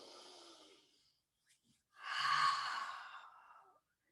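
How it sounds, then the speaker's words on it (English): Slow deep breathing in through the nose and out through the mouth, close and soft: a faint airy intake, near silence, then a long audible sighing exhale. "just breathing in through your nose, out through your mouth"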